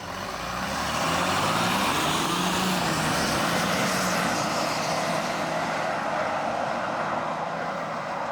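Next-generation Ford Ranger under way, a steady broadband engine and road roar that swells in after the first second and holds loud and even, with no talk over it.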